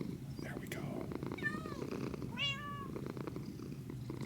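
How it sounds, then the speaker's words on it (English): Cat purring from friendly creatures in a video game, a soft continuous rumble with a couple of short chirpy rising calls, playing under game music and a talking voice. "And listen to the purrs."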